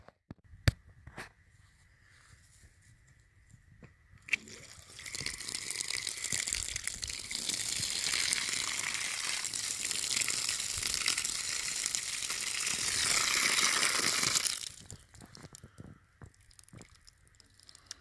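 After some faint rustling, a steady hissing rush of water pouring onto sand at a wind tower guy anchor runs for about ten seconds, then stops abruptly.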